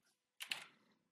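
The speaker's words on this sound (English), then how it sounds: "I'm just typing in your Twitch chat." A short burst of computer keyboard typing during a heated podcast debate, a quick cluster of close, light key clicks that fades out within a second.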